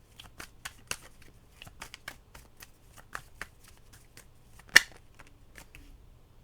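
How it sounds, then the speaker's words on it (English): Tarot cards are shuffled close up in quick, soft riffling bursts, with a sharper snap near the end and no talking. "one more shuffle"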